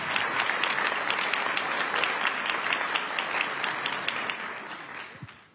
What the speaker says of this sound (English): Can we have a round of applause for all of our officers this evening?